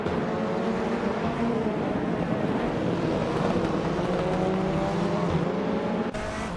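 Several Honda Civic race cars circle a track together in a race, engines droning steadily and loud throughout with layered harmonic whine, no one car breaking away, and a brief shift near the end.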